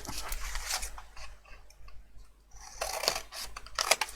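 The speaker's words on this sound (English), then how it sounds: "what I'm going to do now is go to my scissors and then cut that off" Scissors snip through craft material in a home crafting session, two or three quick crisp cuts with quiet handling rustle between them, close and fairly soft.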